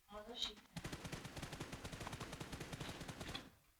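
Rapid automatic gunfire from PUBG Mobile crackles in a fast steady burst of shots lasting about three seconds, fairly faint, after a short sharp sound at the start.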